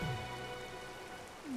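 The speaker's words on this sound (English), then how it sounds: "All right, well, it's raining here." Rain falling in the video game A Hat in Time, a steady dense patter of drops across the whole moment, with faint tonal game music underneath and no talking.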